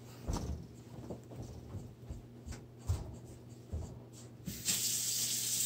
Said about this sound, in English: I better go wash my hands.